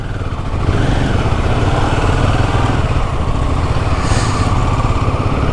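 A motorcycle being ridden on the roads of Leh Ladakh, its engine droning steadily and loudly up close with wind noise and no talk.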